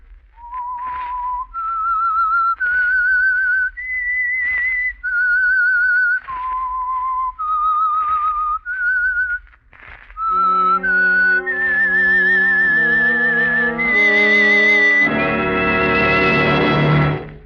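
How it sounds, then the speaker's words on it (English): A solo whistler carries a short, lilting theme tune for the radio program The Whistler, clear and close, before a swelling orchestral chord joins at the end. "That whistle is your signal"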